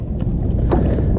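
A kayak paddling along on open water while trolling for bass, heard as a short, steady wash of wind and water noise with one brief splash-like swell near the end.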